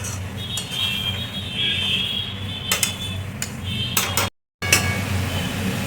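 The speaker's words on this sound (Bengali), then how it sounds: "বাড়িয়ে এটাকে আমি ভালো করে নাড়াচাড়া করে আমি কষবো এটাকে।" Mutton curry being stirred and fried in a pan over a gas flame, with scattered metallic clinks and scrapes of a utensil against the pan over a steady low background hiss.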